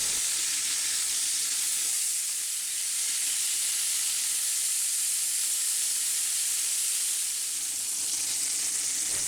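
Pork chops searing in a hot cast iron pan give off a dense, even, loud sizzle that holds steady throughout with no other sounds.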